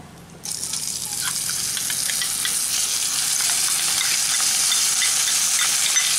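Gobindobhog rice frying in hot oil with bay leaf, cinnamon and cardamom: a loud, steady, close sizzle that bursts in after a brief quiet start and holds evenly throughout.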